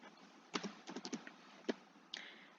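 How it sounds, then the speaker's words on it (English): Someone types on a computer keyboard in a quiet room: a few soft, close key clicks, a small quick run of taps, then a lone click and one more keystroke near the end. "I am going to type in the city of Berkeley"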